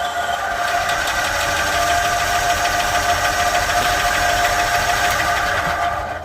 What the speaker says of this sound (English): So now, if we bump the engine, we should see it build vacuum pressure